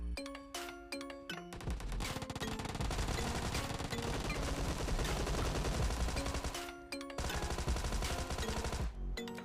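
Rapid gunfire in PUBG Mobile as a full squad is wiped out, with dense bursts of shots and crackling reports filling the clip almost without a break, loud and close.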